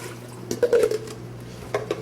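Water poured into a pot holding pure maple syrup for a pork brine, a short soft splashing trickle with a few light clinks of the pot, fairly quiet and close.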